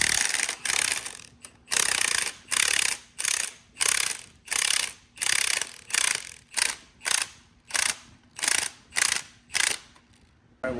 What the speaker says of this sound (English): Let's get the harmonic balancer bolt out.